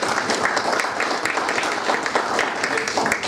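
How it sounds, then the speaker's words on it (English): A workshop audience gives a loud, dense round of applause at a closing session, sustained without a break, with some crowd murmur mixed in. "So give them a round of applause."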